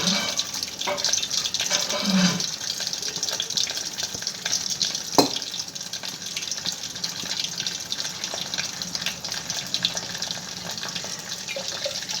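Cumin and mustard seeds frying in hot oil for a dal tempering, a steady close sizzle with scattered crackles and faint scraping throughout, one sharp pop partway through.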